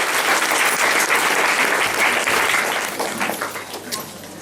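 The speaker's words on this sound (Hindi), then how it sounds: "जोरदार ताली से धन्यवाद है" Congregation applause at a Christian ministry service in India, loud sustained clapping from a gathered crowd that fills the space, then gradually thins and fades toward the end.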